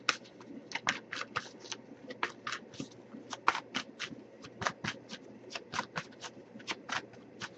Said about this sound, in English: here I'm just looking for one card with general advice